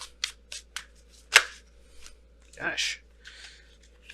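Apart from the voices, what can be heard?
tarot cards being shuffled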